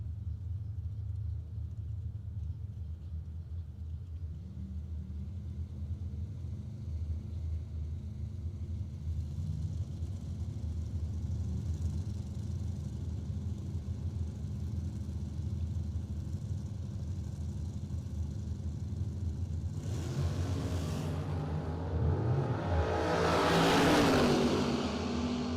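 Drag race cars, a Chevelle among them, rumble at idle on the strip for a long stretch, then burst into a loud, rising roar as they launch near the end.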